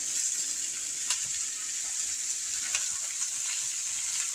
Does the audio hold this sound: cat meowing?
no